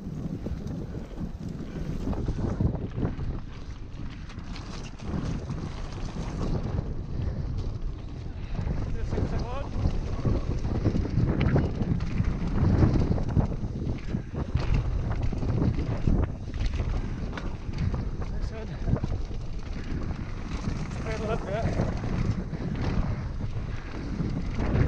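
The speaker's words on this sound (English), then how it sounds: "that's because the wind's coming in here" Wind gusts roar across the microphone at Bikepark Wales, a constant buffeting low rumble lasting throughout, loud and close, with faint movement sounds underneath.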